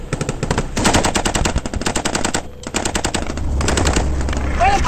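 Rapid bursts of automatic gunfire during a military ambush on long-range patrol vehicles, loud and close, with sustained machine-gun rattles broken by a short pause before the firing resumes.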